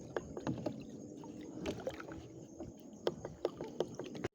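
Paddle strokes and knocks against a small wooden boat being turned on the Calumpang River, a series of soft splashes and clunks under steady background noise, with sharper hits near the end.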